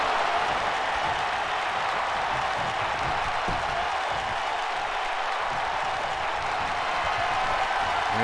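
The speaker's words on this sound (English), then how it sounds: "The crowd going crazy here in the arena." A large arena crowd at a wrestling match roars and applauds in a dense, continuous wash of cheering that holds steady and loud throughout.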